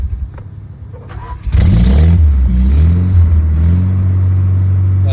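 A Nissan 240SX engine held on the gas with a poorly set idle revs loudly and steadily up close after a brief quieter start, the throttle kept open so it won't stall.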